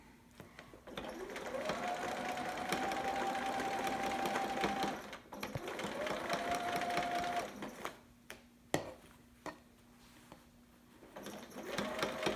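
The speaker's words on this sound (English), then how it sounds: "you're just sewing right over those pleats. Or not pleats, gathers" A sewing machine stitches over gathered fabric for a romper, two sustained runs of rapid mechanical whirring with a rising motor whine, then short stop-start bursts and clicks.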